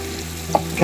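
Chicken pieces sizzle in a frying pan while being mixed for chicken mandhi, a brief steady fry with a single clack and a scrape near the end.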